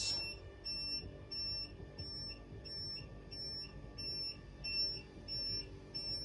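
A warning beeper on EZ Topper lift bed actuators sounds repeated short, high, regular beeps while the actuators lower the bed, with a low motor hum underneath.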